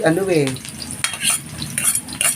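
Garlic frying in a pan while being stirred, close and fairly loud: a steady sizzle broken by repeated scraping strokes of a utensil against the pan, with a brief voice at the very start.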